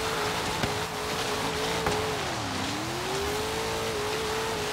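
In the video game Forza Horizon 3, a Dodge Challenger strains up a slope. Its engine hums at a steady pitch, then dips and rises again as the car struggles. The tone is continuous and moderately loud, with small knocks and no one talking.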